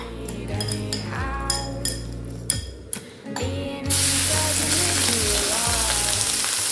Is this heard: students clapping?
no